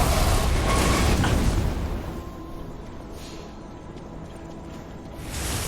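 A deep, loud blast rumbles at the start in Lies of P, its roar decaying over a couple of seconds into a lower ambient hum before another swell rises near the end.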